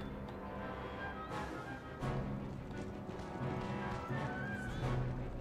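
Cavalry horses in the video game Empire Total War whinny and snort over a dense battle din, with brief neighs rising above a steady rumble of hooves and fighting.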